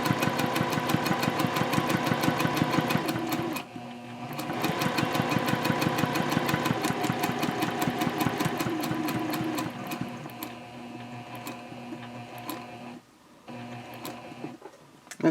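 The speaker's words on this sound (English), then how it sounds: "I'm going to sew down the side here" A sewing machine stitches down the side of a handbag tote in long, steady runs of rapid mechanical clatter, pausing briefly around a pivot before resuming in shorter bursts, close and loud.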